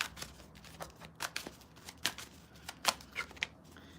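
Tarot cards shuffled and drawn by hand for an air-sign reading, a quiet series of soft riffling flicks and papery snaps in an uneven rhythm, close by with no talking.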